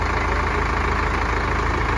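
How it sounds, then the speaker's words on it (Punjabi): A 4x4 tractor engine idles just after starting, a steady, close, low rumbling drone that holds an even level throughout with no voices. "ਟਰੈਕਟਰ ਕਰ ਲਿਆ ਸਟਾਰਟ ਬਾਈ ਉਹਨਾਂ ਨੇ"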